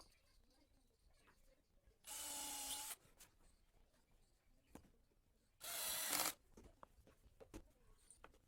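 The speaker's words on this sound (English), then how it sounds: "before fastening the screws I shall make the pilot holes" Two short, loud bursts from a drill boring pilot holes for screws in a wooden dowel-making jig, each lasting under a second, separated by quiet handling clicks and taps close by.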